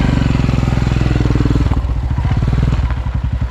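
A Royal Enfield motorcycle engine revs loudly and close by, with a steady thumping throb that breaks into uneven, pulsing blips toward the end.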